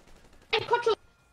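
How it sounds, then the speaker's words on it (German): Gunfire in the video game GTA 5, heard as a short, loud half-second burst of shots. It stands out sharply against quiet background noise. "Von wo kommen denn die Schüsse schon wieder?"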